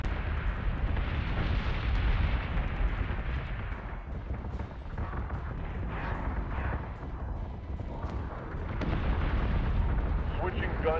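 Explosions rock a spaceship in a Battlestar-style space combat video game, a sustained roaring blast with rumbling booms and crackling debris that swells, dips and surges again.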